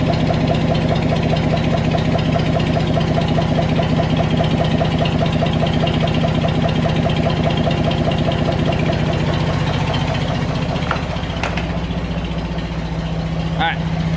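Tractor engine idling steadily with the three-point hitch lowered, a constant low rumble throughout that drops in pitch near the end, with a few clanks and light handling noise over it.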